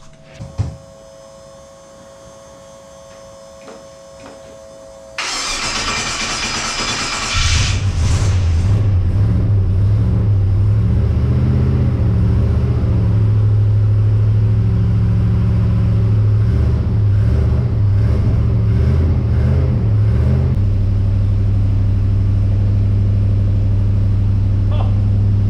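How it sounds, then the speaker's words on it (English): A Holden XG Ute's four-cylinder engine cranks over and catches, then settles into a steady, loud, close idle with a deep low rumble that holds for many seconds before easing slightly near the end. "I guess I'll fire this thing up"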